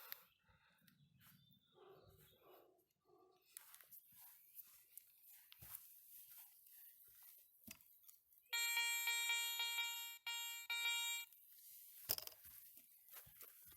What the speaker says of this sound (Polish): Bardzo ładny, powtarzalny sygnał, dwa gongi.